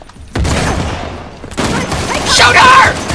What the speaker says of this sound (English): Oh, I'm throwing a bomb over that way.